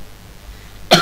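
A single sharp cough from someone who is slightly ill, coming abruptly at the very end after near silence.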